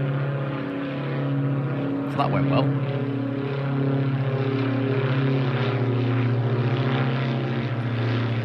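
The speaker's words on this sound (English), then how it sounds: "There's another plane." A propeller plane drones steadily overhead at Retford railway station with a constant engine hum, while a person briefly speaks over it.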